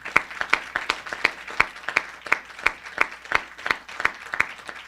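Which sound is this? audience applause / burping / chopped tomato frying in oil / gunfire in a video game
audience applause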